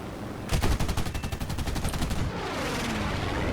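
Aircraft cannon fire from a Ki-45 Ko heavy fighter in War Thunder, a loud rapid burst of roughly two seconds of heavy, evenly spaced shots, then a lingering rumble.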